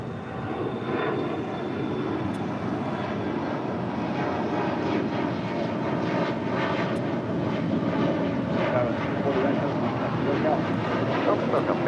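Boeing 777 jet engines roar at LAX airport, a continuous, loud, broad rumble that holds steady throughout as a voice talks over it.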